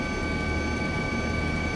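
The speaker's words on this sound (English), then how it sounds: "the cops and their noisy chopper have woken the whole neighbourhood." A police helicopter hovers over a residential neighbourhood around one in the morning, its rotor and engine giving a steady, unbroken drone that holds at an even loudness throughout.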